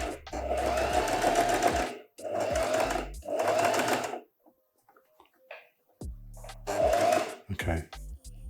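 A sewing machine runs in several short bursts of fast, tinny tapping, close up, separated by quiet pauses, with a voice heard near the end.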